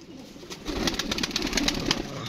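Wild-breed pigeons flutter and coo nearby, with bursts of wing flapping and soft low calls rising in the second half.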